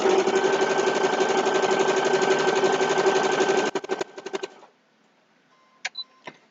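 A sewing machine runs in one steady, fast stitching burst through a two-fabric potholder for nearly four seconds, then stutters through a few short stitches and stops, leaving near silence broken by a couple of faint clicks.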